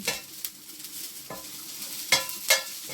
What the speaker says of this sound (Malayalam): കറി എന്നാലും ഇപ്പോൾ നടപ്പ് നല്ല തിളച്ചുകൊണ്ടിരിക്കുകയാണ് വെട്ടി തിളച്ചിട്ടുണ്ട്